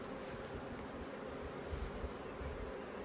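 Honey bees buzzing around the top of a hive while a new queen is introduced to a split nucleus colony, a dense, continuous close-up drone with no voices.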